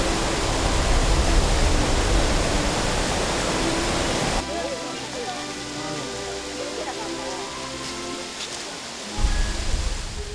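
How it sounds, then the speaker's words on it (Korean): A waterfall at Gangcheonsan, freshly flowing after the winter thaw off an ice wall, roars as dense, steady rushing water for about four seconds, then drops away to a quieter background with faint tonal sounds. "겨우내 빙벽에 머물렀던 폭포수가 막 잠에서 깨어났다."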